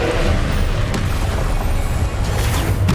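The Confringo blasting spell going off in the Hogwarts Legacy video game during Percival's trial, a steady heavy booming roar with a couple of sharp bursts, loud and dense without pause.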